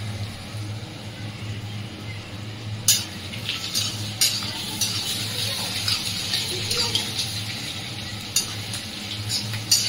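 Onions fry in oil with bay leaf and dried chilli, giving a soft steady sizzle close by, broken by scraping and clinking as a spoon stirs the pan.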